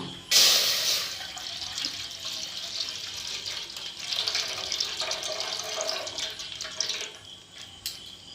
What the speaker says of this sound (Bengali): পাস্তা তো সিদ্ধ হয়ে গেছে জল ঝরাতে দিয়ে দিয়েছি